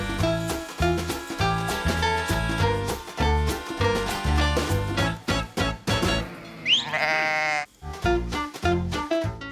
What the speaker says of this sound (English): The sheep is separated into different flocks. And then the counting starts.